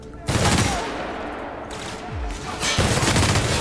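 Rapid gunfire bursts in The Outer Worlds video game, with loud automatic volleys and booms starting and stopping, and some talk mixed in.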